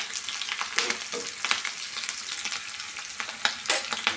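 Greens being stirred into a pan of radish sambar, giving a steady sizzling fry with soft scraping stirs and occasional louder clatter, close and with no voices.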